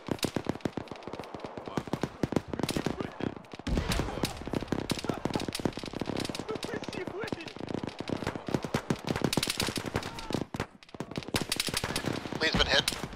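Machine gun fire in the Arma military game, played with the ShackTac group: rapid bursts of automatic gunfire, near and loud, keep going through the whole stretch, with players talking over the shooting.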